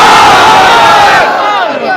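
A large crowd at a religious gathering roars a loud unified chant in reply to the Takbir call, a sustained mass shout that swells and then trails off.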